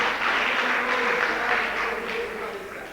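Concert-hall applause at a music school jubilee, a dense, steady roar of many hands clapping together for about three seconds, fairly loud and even, tapering slightly toward the end.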